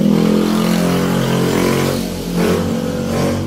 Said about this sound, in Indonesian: ada suara motor ya, bising banget